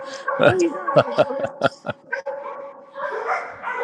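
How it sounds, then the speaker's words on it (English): A happy little puppy barks and yips excitedly in a kennel, a quick run of close, high yaps followed by softer whimpering calls. "Then here's the little puppy."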